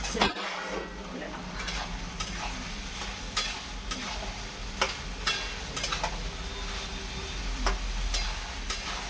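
Potatoes for aloo posto fry and sizzle steadily in a pan while a utensil stirs and scrapes them, with repeated metallic knocks against the pan, close and continuous.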